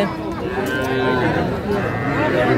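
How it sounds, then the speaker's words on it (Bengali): Sahiwal bull calves at a busy cattle market, lowing and mooing close by amid continuous crowd noise and murmured voices. "3টি ষাঁড় বাচ্চা"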